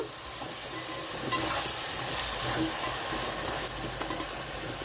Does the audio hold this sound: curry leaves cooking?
yes